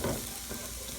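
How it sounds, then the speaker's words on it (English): Celery and other vegetables sautéing in olive oil in a pot over medium heat, a dense close sizzle with a short stir at the start. "And we're just going to saute them."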